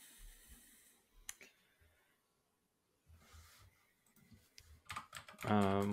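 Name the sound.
typing on a computer keyboard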